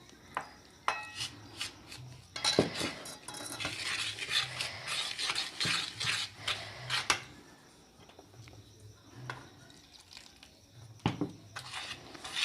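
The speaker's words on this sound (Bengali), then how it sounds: "এইভাবে করে অল্প অল্প করে দুধ দিয়ে মিশ্রণটি ভালোভাবে মিশিয়ে নিতে হবে।" A spoon scrapes and clinks in a bowl as milk is worked little by little into crushed biscuit mixture for a Christmas cake, in irregular close stirring strokes with brief pauses.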